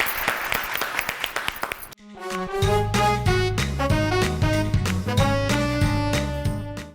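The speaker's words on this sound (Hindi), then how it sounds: "तालियां।" Studio audience applause on a Pakistani Eid special talk show: about two seconds of crisp, close clapping that cuts off abruptly as a bright musical jingle takes over.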